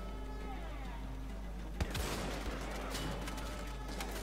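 Gunfire in the video game Wolfenstein: The Old Blood: after a quiet stretch of game ambience with a low hum, a sharp shot sets off a rapid burst of crackling fire that continues as a dense clatter.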